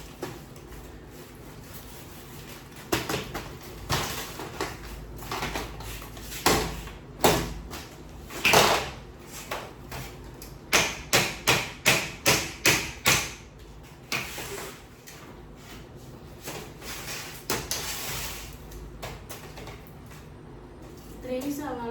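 A cloth or mat is beaten indoors during a house-cleaning day, giving a series of dull, close thumps and slaps, with a quick rhythmic burst in the middle and scattered knocks before and after. A voice is heard now and then.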